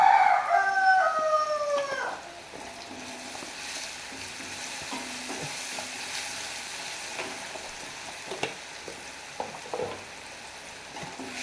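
Pumpkin pieces fry and get stirred in a pan, seasoned with cumin powder; a steady close sizzle runs throughout, with a few light scraping knocks of stirring near the end.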